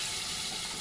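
Palm fruit fritters slid by wet hand into hot oil, giving a steady, close, even sizzle of frying that holds throughout with no talk.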